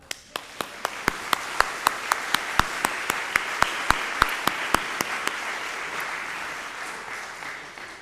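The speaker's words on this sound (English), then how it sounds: "Now you can applaud them." Audience at a city council candidate forum applauding, opening with sharp, evenly spaced individual claps that thicken into steady, moderately loud applause before easing off near the end.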